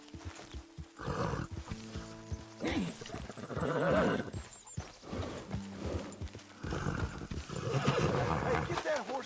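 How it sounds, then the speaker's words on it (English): Horse in Red Dead Redemption 2 whinnying loudly with clip-clop hoof steps, along with other game sounds and people talking in between. "Hey, get that horse out of here."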